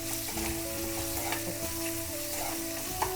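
Onions and rice fry steadily in a pan for mango peel sambar, giving a continuous close sizzle with faint clinks and a soft tap near the end, no one talking.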